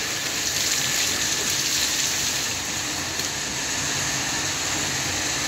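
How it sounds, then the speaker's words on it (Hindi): Water drains steadily out of a fabric-dyeing vessel during lemon-yellow dyeing, giving a continuous broadband gushing rush that holds even throughout, close and fairly loud, with no voices. "इसमें से पानी हम निकालेंगे"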